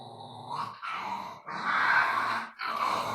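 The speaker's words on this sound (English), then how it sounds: "Stop growling." A grumpy dog growling at night while being called indoors, low rumbling growls in three sustained stretches with short breaks, loud and close.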